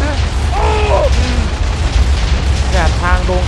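Minecraft explosions tear through a village in a continuous, loud rumbling barrage of booms, with someone talking over the din.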